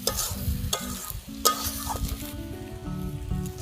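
Masala with a spoonful of cumin powder stir-fried in oil in a pan for a jackfruit curry, a steady close sizzle broken by repeated scraping stirs and occasional clinks of the spoon.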